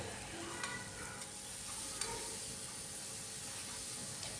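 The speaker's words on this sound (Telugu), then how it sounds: "పోపు మొత్తం కలిసేలాగా బాగా కలుపుకోవాలండి" Soft, steady sizzling in a pan with faint scraping as ridge gourd and tomato curry is stirred, quiet and continuous throughout.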